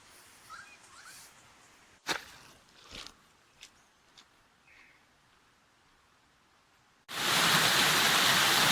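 After a few scattered knocks and rustles, a loud steady rush of a small waterfall beside a forest path in Toolangi State Forest, Victoria, Australia starts suddenly and fills the rest, close and continuous.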